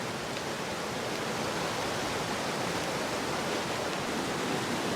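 A river flows in a steady, dense rush of water, unbroken and fairly loud for the whole stretch, with no voices or other sounds on top.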